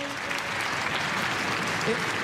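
A crowd at a Spanish-language government press briefing breaks into steady, dense applause, a continuous wash of clapping that fills the whole moment at even loudness.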